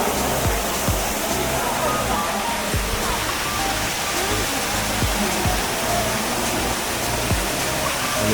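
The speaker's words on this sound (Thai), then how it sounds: "น้ำตกนะครับ" Steady, loud broadband rush of a waterfall at a crowded cave temple site in Nakhon Nayok, Thailand, a continuous roar with low rumble throughout, with faint crowd voices under it.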